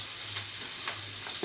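Onions, green chilies and cumin seeds frying in hot oil for a curry make a steady, close hissing sizzle with a few soft stirring scrapes, no talking.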